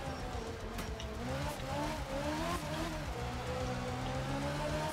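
Game car engine with rising and falling harmonic pitch as gears shift, held steady and continuous over a constant rushing background, no voices, during a careful endurance race in Kenya in a racing video game.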